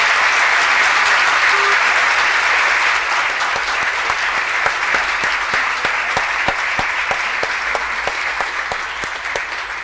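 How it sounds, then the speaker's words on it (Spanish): Audience at a live show loudly applauding Hugo Gutiérrez, dense sustained clapping throughout with some sharper rhythmic claps emerging in the second half, steady crowd applause without clear speech. "Vamos a darle un aplauso al señor Hugo Gutiérrez."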